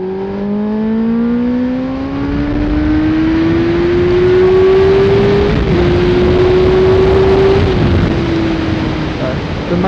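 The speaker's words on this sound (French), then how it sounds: "Depuis que je l'ai, cette moto-là, vous l'avez jamais entendu." A motorcycle engine revs up and holds a rising whine, the pitch climbing steadily then dipping briefly before continuing, loud and close against road wind noise.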